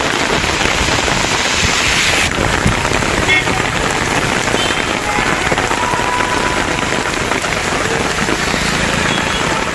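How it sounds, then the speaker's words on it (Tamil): Heavy rain pours down in Perambalur district, Tamil Nadu, a loud, dense, unbroken hiss of drops hitting surfaces throughout. "பெரம்பலூர் மாவட்டத்தில் தொடர்ந்து இரண்டாவது நாளாக கனமழை கொட்டியது"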